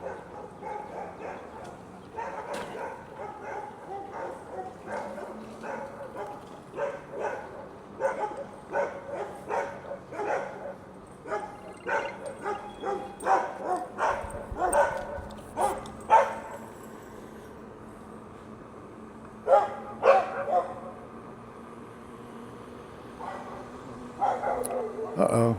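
Small puppies yip and bark in short, repeated bursts outdoors during a rainy day of stump work, with a person talking among the yaps and a steady low hum underneath.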